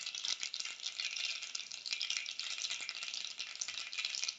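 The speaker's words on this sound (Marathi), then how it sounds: "मोहरी छान फुटायला लागलेली आहे." Mustard seeds crackle and pop in hot oil during a tempering, with quick, irregular snaps over a soft continuous sizzle, close and fairly quiet, no talking.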